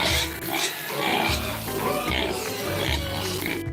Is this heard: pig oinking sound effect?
yes